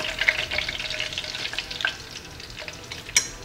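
Shami patties fry in a pan with a soft, continuous sizzle, punctuated by a few light clinks and scrapes of a utensil near the end.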